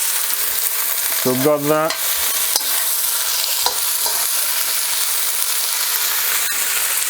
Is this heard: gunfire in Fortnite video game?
no